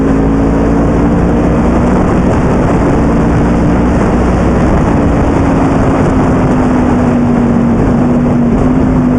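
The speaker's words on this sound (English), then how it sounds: "it's got a lovely overrun now" A 2009 Yamaha R1 motorcycle ridden on the road, its engine on overrun: a loud, steady drone with a slowly falling pitch, heavily mixed with wind rush and no talking.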